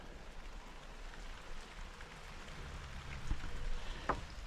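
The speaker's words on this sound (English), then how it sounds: "then it started to rain. It's raining now." Rain falls in a garden beside a brick building site with scaffolding, a soft steady patter and hiss, faint and continuous, with a couple of light knocks near the end.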